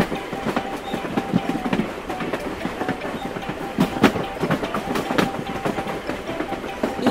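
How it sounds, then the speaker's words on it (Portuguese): A toy train departing during children's car-and-toy play, giving a rhythmic clickety-clack of wheels on track that repeats steadily at close range without talk. "O trem está partindo!"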